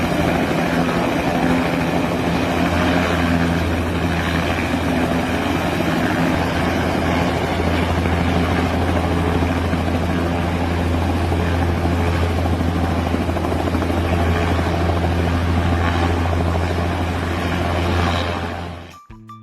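A helicopter's engine and rotor roar steadily and loudly from nearby, with a constant low throb and broad whine that hold for nearly twenty seconds before cutting off abruptly.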